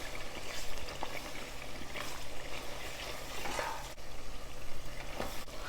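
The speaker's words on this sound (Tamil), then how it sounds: "இந்த ஆயிலே நல்லா ஃப்ரை பண்ணிடலாம் பச்சை வாசனை போகிற அளவுக்கு" Masala frying in oil for mutton biryani, a dense continuous sizzle with stirring scrapes, close and alone without talk.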